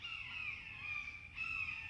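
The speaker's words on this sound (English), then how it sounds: "Only thing I hear is the crows, the birds in the background." Crows caw in the background outdoors under a tree canopy, two drawn-out calls in a row, faint and distant, with no one talking.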